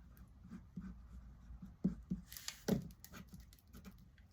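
Adhesive is applied to a paper greeting card during papercraft, giving soft scratchy rubbing and a few short sharp taps. The sounds are quiet and close, with no talk.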